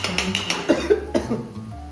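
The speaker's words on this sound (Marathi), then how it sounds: "बघा भावाला खोकला आला नाही का" Several short, dry coughs from one person in a home kitchen, coming in a quick irregular burst up close.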